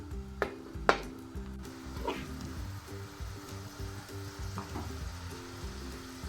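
Oil sizzles steadily in a pot as onions and tomatoes fry, with a few sharp clinks early on and a low rhythmic hum underneath.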